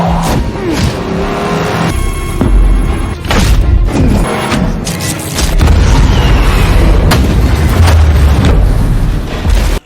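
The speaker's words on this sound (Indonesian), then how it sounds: "Dan Linu berhasil mendapat target pertama dan meledakkan mobilnya." A car blows up in an action film, deep booms and thuds over rumbling engine noise and crashes in a loud, dense mix of blasts throughout.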